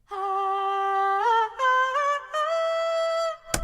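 Dry lo-fi hip-hop sample, a few sustained tonal notes stepping between pitches in short phrases, clean and close, ending with a brief sharp hit, with no talking.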